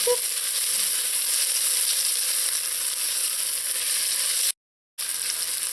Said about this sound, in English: Let this saute in here for about a minute. Let that onion and garlic and peppers soften up.